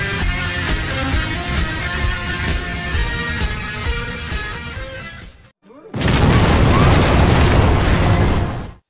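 A dramatic cinematic explosion with a sustained roaring burst, briefly cutting to near silence before a second loud blast and rumbling debris.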